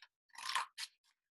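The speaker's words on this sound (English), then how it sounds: "I'm going to take my scissors and I'm going to cut upwards" A few short crisp snips of scissors cutting a bat shape out of paper for a puppet, close up, the middle one longest, with quiet gaps between.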